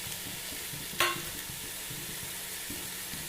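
Tomato and ginger frying in a pan, a soft, even sizzle with a single sharp clatter as the pieces drop in, followed by quieter spitting and the occasional stir.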